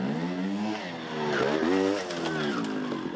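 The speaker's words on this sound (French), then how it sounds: "De l'escalade à moto" A trial motorcycle at the FIM Trial World Championship in Comblain-au-Pont revs its engine in bursts while climbing obstacles, rising and falling pitch at moderate distance.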